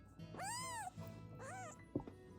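A hungry newborn kitten gives two rising-and-falling meows, close and fairly loud, with a short gap between them and a soft click or bump near the end.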